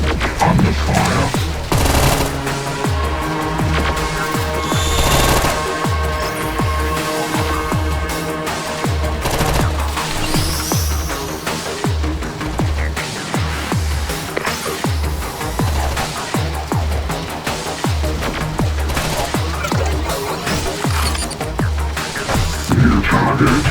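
Video game battle gunfire, with dense rapid automatic bursts and a steady fusillade rolling on without pause amid game music and effects, loud throughout.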